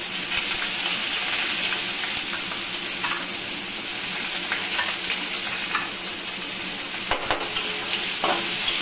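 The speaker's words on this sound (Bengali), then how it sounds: "এখন পেঁয়াজটা দিয়ে দিব, একটা বড় পেঁয়াজ কুচিয়ে নিয়েছি।" Chopped large onion frying with whole cumin seeds in a hot pan, a steady close sizzle with occasional stirring scrapes, continuous and moderately loud with no talking.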